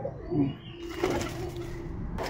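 A Madras pigeon at a fancier's loft gives a few soft, close coos, a short low call followed by a longer sustained one, alone without talk.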